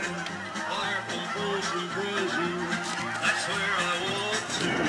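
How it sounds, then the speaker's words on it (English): A large flock of Canada geese honking overhead, a continuous chorus of overlapping nasal calls, moderately loud, with some background voice and outdoor noise. "Oh, all them geese up there. All them Canadian geese."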